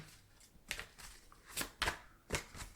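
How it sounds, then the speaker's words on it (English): Tarot cards being shuffled up close, a series of soft riffling bursts and taps at an uneven rhythm, quiet otherwise. "The cards are getting more difficult to shuffle."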